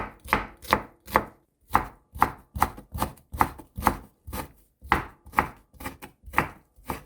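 A knife chops thinly sliced meat on a cutting board for a mugwort soup, giving a steady series of about fifteen sharp, close knocks in an even rhythm with nothing else heard.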